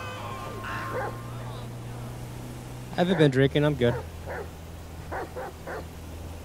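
A dog barks in Grand Theft Auto V: a quick run of loud, close barks over a steady low game hum, with someone talking before and after.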